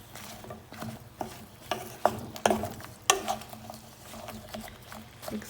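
Zucchini and squash pieces are stirred in a pan with oil and butter, making a repeated scraping and clattering rhythm over a low background hum.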